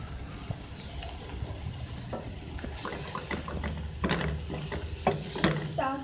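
Cabbage and green onion stirred in a pan for chicken vegetable egg rolls, with scattered scraping and clattering strokes that grow louder and sharper toward the end.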